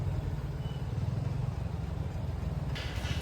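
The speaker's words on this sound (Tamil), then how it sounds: "இந்த டிராஃபிக் ஆரம்பிச்சிருச்சுப்பா." Steady road traffic on a busy street on a Saturday evening, with a continuous low engine rumble from passing cars and motorbikes close by. A brief brighter hiss rises near the end.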